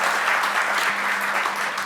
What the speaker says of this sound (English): Can we just honor him with a big hand clap?